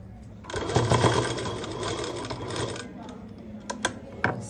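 A sewing machine double-stitches the square neckline of a school uniform skirt body, running in a close, loud burst for a couple of seconds before stopping, followed by a few sharp mechanical clicks and taps.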